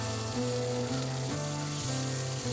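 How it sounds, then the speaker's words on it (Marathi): Chopped onion and cumin seeds sizzle steadily in hot oil in a pan, a close, even frying hiss with a faint low rhythmic undertone throughout. "या कांद्याला छान असा गुलाबी रंग येईपर्यंत तळून घेऊ"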